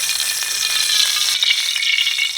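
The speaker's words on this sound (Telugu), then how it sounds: "నేను తెచ్చుకున్నది కిలో బోటికి 8 పావుల నూనె పోస్తున్నా" Cooking oil pours into a pan at the start of a Telangana-style gongura boti (goat tripe) curry. A loud, close, steady hiss lasts about two and a half seconds and then stops abruptly, with no talking.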